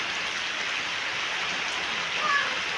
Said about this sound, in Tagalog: ulan na nga po ngayon